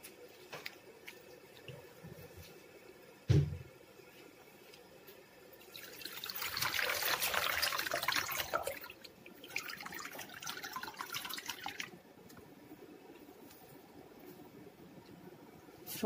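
Greens are washed by hand in a bowl of salted water, with soft trickling and splashing that builds into a steady swishing wash in the middle, then settles back to quieter dribbles, after one sharp knock early on.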